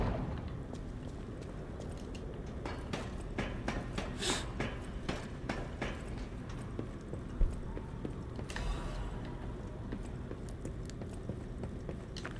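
Hooves of a big horse clip-clop in the video game Lies of P, a quiet, irregular run of hoof strikes under game ambience with a few louder impacts.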